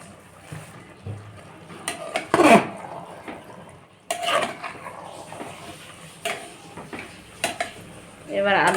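Cooked meat for biryani slides into a pressure cooker with scraping, clattering metal knocks from pot and spoon in several bursts, fairly close, with occasional speech in between.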